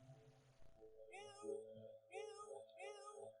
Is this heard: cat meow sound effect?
yes